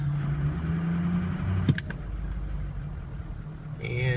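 A 2003 Ford F250 diesel 4x4 running at low idle while it is put into reverse: a steady, close, low rumble with a single sharp clunk partway through and the engine note rising slightly at the end.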